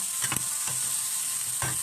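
Nuts are stir-fried in a hot wok, with a steady sizzling hiss and a few short scraping strokes of the spatula against the pan, close and fairly faint.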